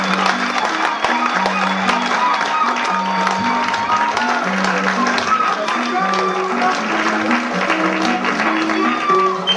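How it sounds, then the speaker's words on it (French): Applause and some cheering from a theatre audience after a dramatic recitation, a steady crowd sound with a low melodic tone running beneath it and voices mixed in. "Une salve d'applaudissements, s'il vous plaît."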